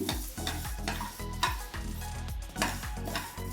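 Fenugreek, cumin and mustard seeds dry-roasting in a pan for coriander pickle, with steady close scraping and stirring strokes and a light rattle of seeds against the metal, repeating about every half second.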